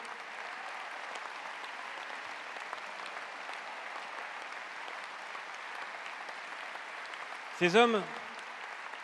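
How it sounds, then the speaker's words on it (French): Steady applause from a large audience at a political rally in a Paris convention hall, sustained and even throughout, with a voice briefly speaking over it near the end. "Et ces applaudissements sont pour eux."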